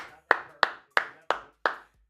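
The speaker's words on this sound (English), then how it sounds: "Everybody clap for Will." Five sharp, evenly spaced hand claps ring out close and distinct, each with a short decay, before stopping.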